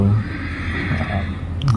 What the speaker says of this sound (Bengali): ঘোড়ারা ডাকতেছে, ঘোড়ারা খাদ্য খাওয়ার জন্য অনেক চিল্লাচিল্লি করতেছে